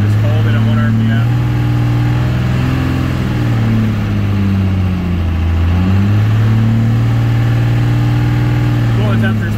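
A Cummins 188/220 engine running during a flat tappet cam break-in, held at a loud steady rev with the pitch rising and falling as the throttle varies, droning continuously up close.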